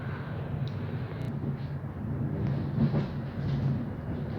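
Inside a moving train bound for Leiden Centraal, a steady loud low rumble with faint rhythmic clatter of the wheels and a hissing wash, continuous throughout with no talking.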